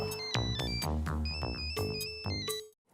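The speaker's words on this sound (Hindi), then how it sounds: "That's my phone." A mobile phone ringtone plays loud and close, a repeating electronic melody of bright tones that runs for nearly three seconds and then cuts off, with no talking.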